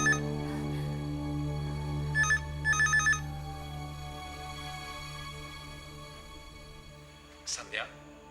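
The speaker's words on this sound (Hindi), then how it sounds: "पता तो करना पड़ेगा किसका फोन है।" A telephone ringing in short repeated bursts over a steady low hum, fairly faint, followed by a brief higher sound near the end.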